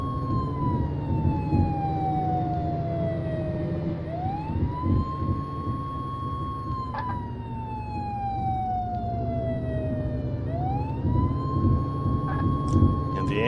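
An ambulance siren in the emergency-services video game Flashing Lights wails in long rising and falling sweeps, loud and continuous over engine and traffic rumble.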